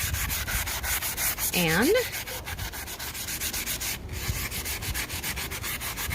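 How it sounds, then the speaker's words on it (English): Rough-grit sandpaper scrapes rust off a garden tool in quick, repeated close strokes, a steady rhythmic scratching with a brief squeak partway through. "sandpaper first, this rough grit, to get most of the rust off."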